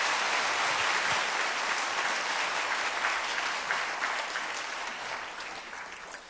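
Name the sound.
applause in church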